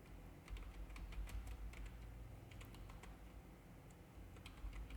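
Steady typing on a computer keyboard while entering a narration in Tally Prime accounting software, with quick clustered key clicks close to the mic and brief pauses between bursts.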